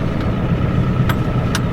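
A Ford F350 Powerstroke turbo diesel pickup drives over rough ground toward a field, heard from inside the cab as a steady, loud rumbling engine and road noise, with a couple of faint clicks and no speech.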